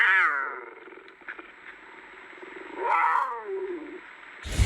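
A mountain lion's deep, rough growl rumbles out, fades, then swells again into a second drawn-out snarling growl before a sharp noise at the end.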